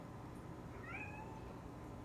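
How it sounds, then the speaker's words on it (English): A pet cat in a home kitchen gives a single short meow at middle distance, soft against a low steady background hum, with no talk over it. "That's my cat as usual."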